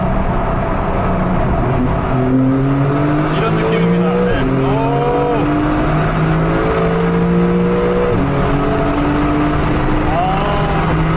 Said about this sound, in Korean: 배기음을 좀 한번 들어보면은요